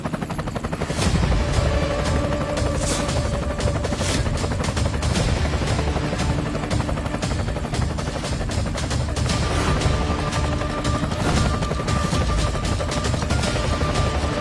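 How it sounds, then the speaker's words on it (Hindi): A helicopter roars nearby with loud, continuous rapid rotor chopping and a steady engine whine, sustained and close throughout. "अरे ये तो करोड़ों का हेलीकॉप्टर है"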